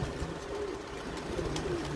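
Soft, low pigeon cooing from a loft repeats faintly against a constant background hum, with no talking.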